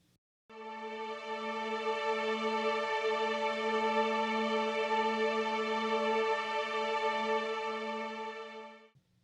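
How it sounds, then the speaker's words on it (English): A sustained synth pad from a track's break section, made in FL Studio: one steady harmonically rich note swelling in, holding evenly for about eight seconds and fading out, moderately quiet with no other sounds. "Next we have this pad, which is playing in the entire break section."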